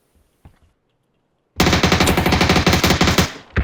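Automatic gunfire in the video game PUBG erupts after a short near-silence, a loud, rapid burst of close shots lasting about two seconds, followed by one more crack.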